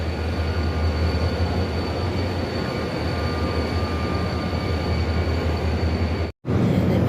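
An old Korean Mugunghwa passenger train rumbles by nearby in a loud, steady drone with faint whining tones, broken by a brief dropout near the end.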